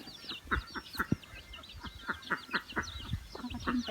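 Chickens cluck in short, repeated bursts close by, with faint higher chirps in the background.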